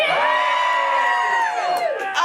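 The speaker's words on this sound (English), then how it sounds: "the crowd went absolutely insane." Wild cheering from a comedy show crowd at a New Year's Eve event: a brief, loud, dense wall of whoops and yells, tapering slightly before a final burst.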